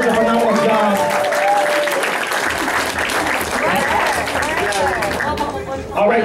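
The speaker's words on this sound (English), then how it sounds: "Let's give everybody a round of applause for doing such a phenomenal job." Crowd applause at an evening recognition event, loud sustained clapping mixed with cheers and excited voices, continuing steadily from start to finish.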